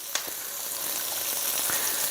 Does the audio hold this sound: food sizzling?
yes